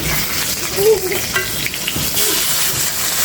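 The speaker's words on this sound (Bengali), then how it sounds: "মাটি চুলায় মাছ ভাজি করলে কিন্তু অনেক মজা হয়" Rui fish frying in oil on a clay stove, a steady close sizzle and crackle running throughout with faint stirring, no voices.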